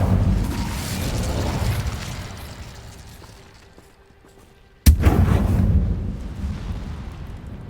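The Incendio fire spell in Hogwarts Legacy rumbles and whooshes loudly, fades toward near silence, then a sharp blast cracks out and a roaring burst of fire follows.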